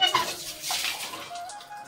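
Water running in a home at night, a continuous broadband splashing rush that stays fairly steady and close throughout.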